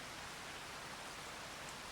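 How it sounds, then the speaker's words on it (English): Rain in the farming video game Farming Simulator 25, a steady, even hiss of falling drops, faint and unbroken throughout. "but it is raining"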